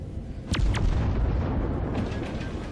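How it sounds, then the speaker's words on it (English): Naval guns fire in World of Warships, aiming at a badly damaged destroyer: two sharp, loud booms in quick succession open onto a sustained low rumble, followed by faint distant crackles later. "That destroyer's on very low health, so I decided to try and use my guns to sink it"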